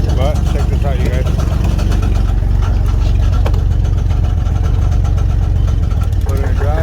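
An old budget OBS truck engine running steadily, a loud, close, low rumble with regular pulsing, while a person talks over it.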